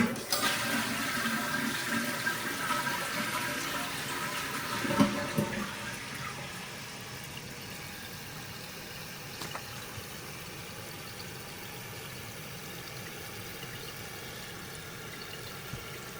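A toilet tank refills through a Pro 45 fill valve, a steady hiss of water rushing in that holds at an even, moderate level throughout, with a brief louder gurgle early on and no voices.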